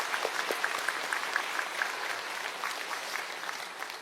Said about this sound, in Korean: 하나님께 감사와 영광의 박수 한번 올려드리겠습니다